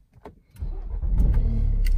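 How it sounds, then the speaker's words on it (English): A Ford Focus Mk3 RS engine starts with a few clicks before cranking into a deep, rumbling idle that builds and stays loud and close, with no voices. "If we just start the car"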